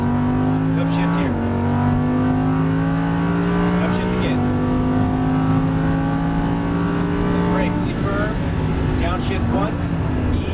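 A Lamborghini Huracan LP610-4 accelerates hard on a race track, its engine note climbing steadily and dropping at each of several upshifts, loud and close, with someone talking over it.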